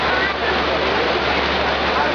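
Rain falls hard and continuously at Disney MGM Studios, an even, loud roar of water close by, unbroken from start to finish, with soft background voices.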